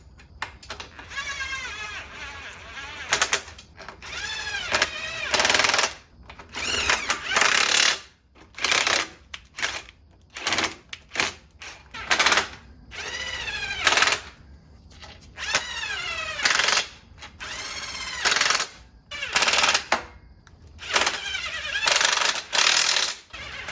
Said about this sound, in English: time to put the bolts back in